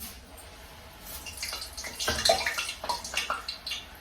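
Murukku, a Diwali snack, sizzles in hot oil in a home kitchen, starting as a faint bubbling and swelling into a dense, crackling fry with sharp pops, close by and with no voices.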